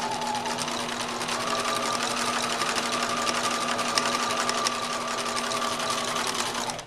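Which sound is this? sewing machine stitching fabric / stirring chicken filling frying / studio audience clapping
sewing machine stitching fabric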